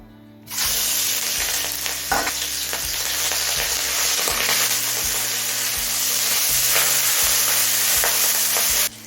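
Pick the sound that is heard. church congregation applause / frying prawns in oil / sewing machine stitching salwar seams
frying prawns in oil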